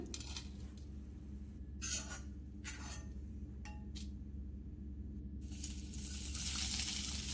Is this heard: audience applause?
no